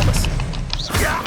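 Expelliarmus disarming spell in Hogwarts Legacy, two sharp whacking impacts about a second apart with a brief whooshing trail between them, loud and close.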